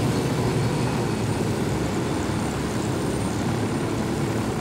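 A helicopter in the open-world shooter Ghost Recon Wildlands drones steadily in flight, a dense unbroken rotor and engine roar filling the whole stretch at high, even loudness with no talk over it.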